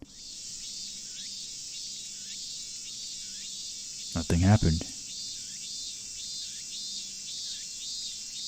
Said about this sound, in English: The deafening silence was broken only by the cries of the cicadas.